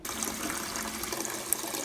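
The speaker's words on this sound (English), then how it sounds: "I'm filling my Instant Pot liner bowl up with some water" Tap water pours steadily into an Instant Pot liner bowl in a kitchen, a close, continuous splashing gush with no talk over it.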